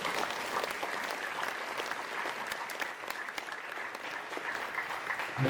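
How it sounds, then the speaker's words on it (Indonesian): Audience applause at a national awareness day ceremony of the religious affairs ministry, a steady, dense clapping from a large crowd that continues evenly throughout with no talk over it. "Tepuk tangan untuk kita semua."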